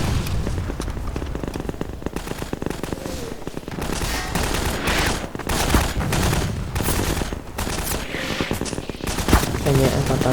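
Dense, continuous video-game gunfire in Garry's Mod during a war-style match, with rapid overlapping shots, bursts and booms filling the whole stretch at steady loudness and no clear pauses.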